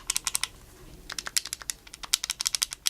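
Buttons on a Rock Candy Blueberry Boom Wii Remote pressed in quick bursts, producing a dense run of crisp plastic clicks close up, with a brief pause midway and no talk.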